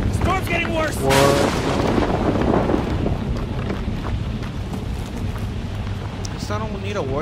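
Thunderstorm and wind in the horror game Outlast 2, a heavy rumbling roar of thunder and gusting wind that swells early then settles into a steady storm wash, with a voice shouting over it at the start and end.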